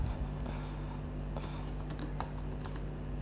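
Steady typing on a computer keyboard while writing Python code, with quick irregular keystrokes clicking over a constant loud hum and background noise, no voices.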